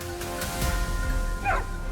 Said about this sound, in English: Luckily, the dogs alerted us to the exact location of the boars.